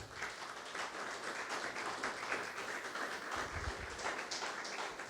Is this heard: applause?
yes